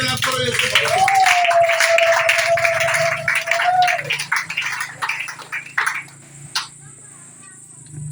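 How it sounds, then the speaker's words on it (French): A church congregation claps during a Sunday worship service, rhythmic clapping mixed with a sustained voice or tone at first, then breaking into scattered, fading claps and a few sharp hits near the end. "Applaudissons très fort pour Dieu."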